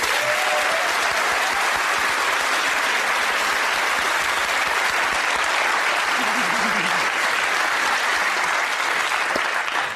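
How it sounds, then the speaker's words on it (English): A theatre audience applauds Jennifer Gibney as Kathy Brown during a Mrs. Brown's Boys stage show, loud, continuous clapping from a large crowd sustained throughout. "She gets a round of applause for that as well."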